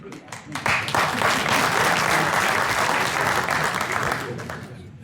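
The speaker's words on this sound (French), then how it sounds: "Alors pourquoi ils applaudissent?" A concert-hall audience bursts into sustained applause, a dense wash of clapping that swells quickly, holds loud and steady for several seconds, then gradually thins toward the end.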